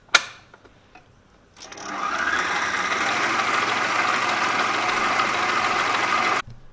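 An electric mixer beats chocolate chip cookie dough in a bowl, with a few soft knocks first and then a steady, close motor whir that holds for several seconds and cuts off abruptly.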